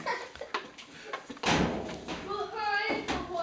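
A closet door in a home swings and thuds shut during a game of hide and seek, one heavy bump standing out midway, with people talking around it.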